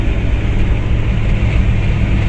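A 1992 Geo Tracker engine at full throttle in fifth gear while climbing uphill, a loud, steady broadband roar and drone that holds constant with no pauses, close to the listener.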